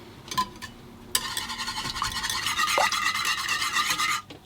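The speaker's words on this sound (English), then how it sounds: "I'm going to add my 2 eggs. And whisk those in as well." Eggs being whisked into cupcake batter for doughnut cupcakes, a steady rapid scraping and rattling of whisk against bowl lasting a few seconds, preceded by a couple of brief clinks, with no talk.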